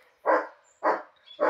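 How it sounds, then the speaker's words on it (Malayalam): A dog barks three times in an even rhythm, close and loud, each bark short and sharp with quiet gaps between. "ഡോഗ് ഭയങ്കര കുറയാണ്."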